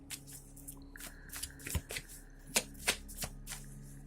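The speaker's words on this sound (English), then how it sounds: "I'm just going to draw a few of these cards." Cards from a Nightmare Before Christmas tarot deck are handled and drawn, giving a string of soft papery slides and crisp snapping flicks at an uneven pace, close and fairly quiet, with no talking.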